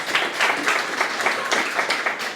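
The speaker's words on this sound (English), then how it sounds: "Let's give her a round of applause as she come up on stage," A live conference audience applauds a speaker walking onto the stage at a startup ecosystem event. The clapping is dense and steady, without pause, for a little over two seconds.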